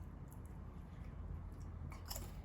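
Someone chewing a mouthful of garlic, shallot and blue cheese party dip, with soft wet squishy bites and a faint crunch, close and quiet over low background hum.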